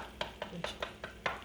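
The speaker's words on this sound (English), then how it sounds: "make sure my eggs are beaten well" A spatula rhythmically beats eggs in a bowl for a spicy Spanish potato omelet, six quick soft taps at an even pace, faint and close.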